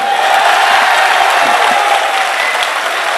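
Steady applause from an auditorium audience at a poetry recital fills the whole stretch, loud and sustained with dense clapping throughout and no break.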